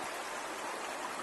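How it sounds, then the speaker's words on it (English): Spring high-water runoff rushes down Hughes Creek in Montana, a steady, broad hiss of flowing water that stays close and even throughout, with no voices. "Spring high water runoff has arrived"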